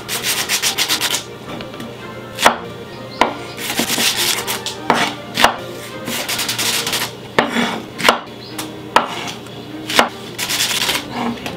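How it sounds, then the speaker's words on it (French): A red knife finely slices onion on a cutting board for the sauce of Liège-style meatballs. Sharp, loud chopping strokes fall in quick bursts, separated by brief pauses, with no speech. "Oignon, couteau rouge toujours, et on émince finement"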